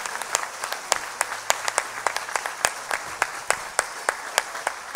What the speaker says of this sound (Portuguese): Quem crê nisso, aplauda Jesus agora.